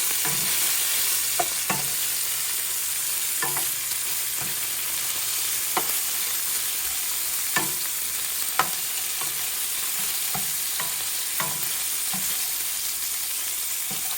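Meat sizzles steadily as it fries in a pan for a keto fried cabbage dish, with a spatula scraping and stirring it in sharp, irregular strokes over the constant hiss, and no voices.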